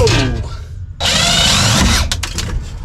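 A power drill bores a mark into metal, a loud whining spin that starts abruptly after a moment of quiet and runs about a second before cutting off, with stutters near the end.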